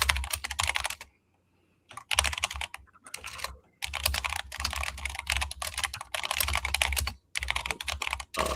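Rapid computer keyboard typing clatters close to the microphone in bursts, broken by a few brief pauses.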